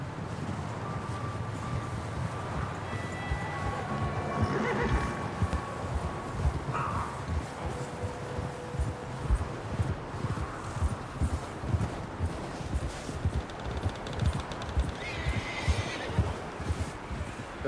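A horse in Red Dead Redemption 2 clip-clops steadily along with a brief whinny, hoofbeats rhythmic and close over wind noise, with no voices.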